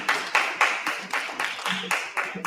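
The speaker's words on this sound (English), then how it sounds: "Oh, somebody did clap." Hands clapping in the audience at a township meeting, about nine crisp, evenly spaced claps from a single person, moderately close, with no other sound between them.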